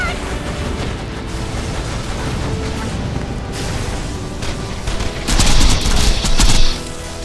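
Rapid gunfire from weapons in the video game Borderlands, a dense rattling fusillade with low booms that swells into louder, harsher bursts near the end, set against a steady rumbling game background.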